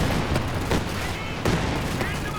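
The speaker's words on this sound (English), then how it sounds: "Here come the rockets" Rocket barrage in Company of Heroes 2 on the Port of Hamburg map, a 3v3 match: a loud, continuous roar of rapid-fire launches and explosions with sharp cracks, heard under a commentator's talk.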